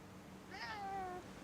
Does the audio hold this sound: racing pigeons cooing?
no